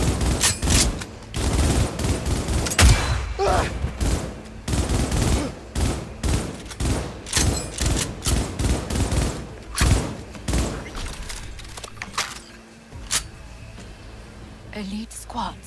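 Rapid gunfire in combat in the Cyberpunk 2077 video game, repeated sharp bursts and shots in an uneven rhythm, loud and continuous with voices shouting among the shooting.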